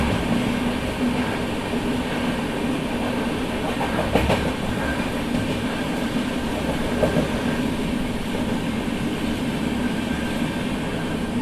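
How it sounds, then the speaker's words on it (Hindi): The Mumbai–Howrah Gitanjali Express crossing at Bhilai station, a steady loud rumble of passing rail cars with faint clickety-clack of wheels and a couple of sharp clanks, continuous for the whole span without talk. "सामने जो आपको ट्रेन दिख रही है वही है Mumbai to Howrah Geetanjali express. Crossing हो रही है अपनी।"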